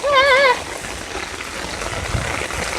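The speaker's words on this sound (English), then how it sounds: "Yeah, they look like they're getting a good rain on" Steady rain falls on a garden of sugar snap peas, a soft even hiss that runs throughout, with a brief whistling tone at the start.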